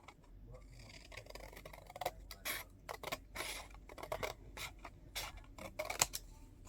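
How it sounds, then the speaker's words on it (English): Scissors snip out paper carousel pieces for a papercraft model, with a steady run of close, crisp cuts and light paper rustling between them. "so just got to cut them out now"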